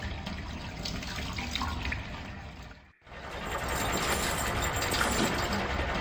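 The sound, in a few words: water pump in video game water distribution system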